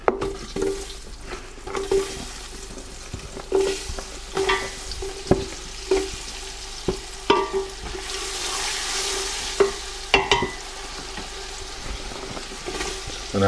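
Chopped onion sizzles in hot oil in a pan for a curry base gravy, with a constant frying hiss punctuated by sharp utensil clatters as it is stirred.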